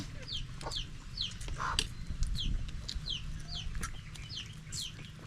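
Several chickens cluck repeatedly in short bursts over a busy background murmur, fairly close and moderately loud.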